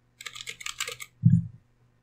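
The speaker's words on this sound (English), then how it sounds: "You first have to type in your password." Brief burst of computer keyboard typing while a password is entered on an Ubuntu 16.04 machine, a quick run of light clicking keystrokes followed by a single duller thump, close and alone with no voices.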